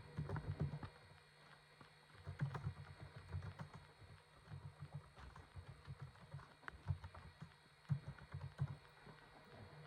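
Fingers type on a computer keyboard while text is entered in Microsoft Word, quiet, irregular bursts of clicking keystrokes with short pauses between runs, close and faint against a low background hum.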